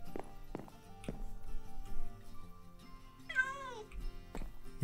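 A Minecraft cat meows once in the game, a short rising and falling mew, heard over soft in-game footsteps and background music.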